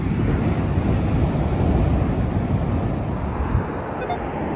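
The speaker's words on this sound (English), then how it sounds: "And the waves are crashing this morning." Ocean surf pounds a beach at Oceanside, California in a steady, loud roar of breaking waves mixed with wind buffeting the microphone, with no one speaking.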